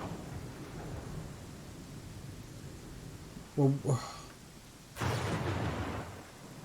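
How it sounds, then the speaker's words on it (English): Rain hisses steadily in a thunderstorm in the video game Pathfinder Kingmaker, then a sharp thunder crack with lightning bursts in and rumbles on; someone speaks briefly just before. "I hate that lightning coming down"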